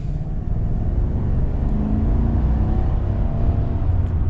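A 2021 Chevy Silverado 1500 LT pickup accelerates at night, heard from inside the cab as a steady, fairly loud low engine drone with road rumble that holds level throughout.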